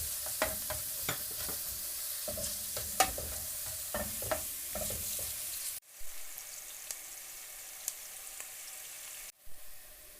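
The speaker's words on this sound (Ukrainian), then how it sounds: "Каструлю кладемо масло. і обсмажуємо цибулю." Chopped onions fry in melted butter in a saucepan, with a steady close sizzle broken by repeated scraping and stirring sounds, then a few quieter pauses.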